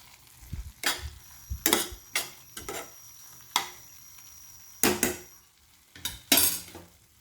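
A spoon stirs and scrapes through spinach and moong dal curry in a pan, a series of distinct clinks and scrapes with pauses between them.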